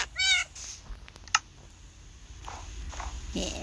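A Minecraft cat lets out a short, clear meow up close, followed by scattered light block footsteps and soft game ambience.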